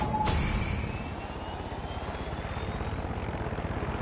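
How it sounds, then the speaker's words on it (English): A helicopter in the Far Cry 6 video game drones with a loud, steady, pulsing rotor throb, close and continuous after a brief initial burst, with no voices. "I'm still trying to get this helicopter out of the way"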